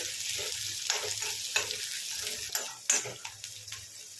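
Onion and green chili fry in a pan with a steady broadband sizzle, while a spoon scrapes and stirs in soft, irregular strokes close by; no one speaks.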